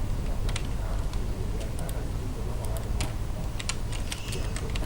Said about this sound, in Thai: ค่อยๆคลิก คลิกย้ำๆนะครับ